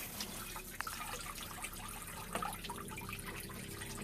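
Water runs steadily from hot and cold shower taps in an RV being winterized with pink antifreeze, a constant splashing hiss with small drips, close and alone.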